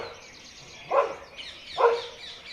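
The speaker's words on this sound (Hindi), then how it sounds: "ये कुत्ता बोलने लग गया था, भौंकने लग गया था" A dog at a forest campsite barks twice at a langur, the two separate barks spaced about a second apart and moderately close, over a steady outdoor background hiss.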